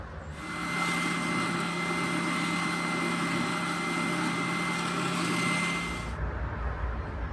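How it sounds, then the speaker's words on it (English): A Win oscillating sander runs steadily on the edges of scrap wood Halloween cat cutouts, with a constant buzzing whir and a steady hum for about six seconds before it winds down. "To sand the edges of these, I'm going to use my Win oscillating sander here."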